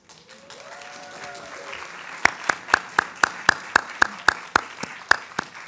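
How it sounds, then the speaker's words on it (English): Audience at a book launch at Innis College breaks into clapping after a quiet stretch of room murmur, the claps coming in an even, steady rhythm until the end. "second round of applause"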